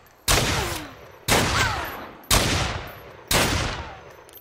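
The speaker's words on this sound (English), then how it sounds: "So let's shoot her. Start off with a headshot." Four loud gunshots from the online video game Fallen Earth, evenly spaced about a second apart, each a sharp crack followed by a decaying echo, with no talking over them.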